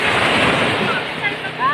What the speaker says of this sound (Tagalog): Naglakas lang ang alon.